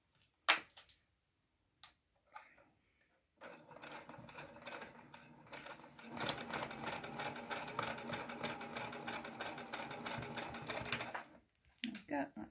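A sewing machine stitches a quilt seam across the bottom edge. A few faint taps come first, then it starts and runs in a steady mechanical whir for about eight seconds before stopping. Nobody speaks.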